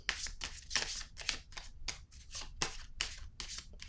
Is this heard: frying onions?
no